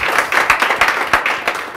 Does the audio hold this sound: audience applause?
yes